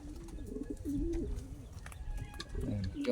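Caged pet pigeons or doves at a bird shop cooing in soft, rolling low calls, several overlapping, fairly close, over a faint background hum with occasional light clicks.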